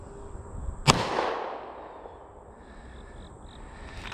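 A single sharp gunshot from a Kahr CM9 pistol cracks out nearby at an outdoor range, followed by a long echoing decay, with no talking.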